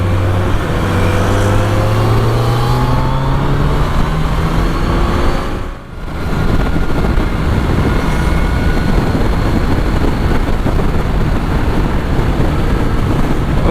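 A vehicle on a night highway roars past with a loud, aeroplane-like engine drone and rising whine, close and steady, briefly dipping mid-pass before the roar resumes.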